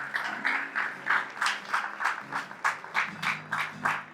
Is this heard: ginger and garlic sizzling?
no